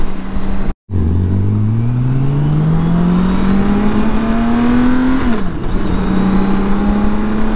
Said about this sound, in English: Wow, this motor sounds nice.